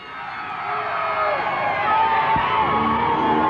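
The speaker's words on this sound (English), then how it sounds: "and the crowd goes wild!" Crowd cheering and roaring at a 1995 Superbike support race at Victorville Speedway, a steady, swelling wash of distant voices with engine-like tones sweeping through, no clear single voice.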